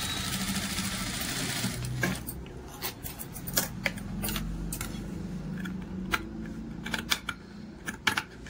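Sewing machine stitching a puff sleeve for a blouse, running steadily for the first two seconds, then giving short separate bursts of stitches with brief pauses, close and clear.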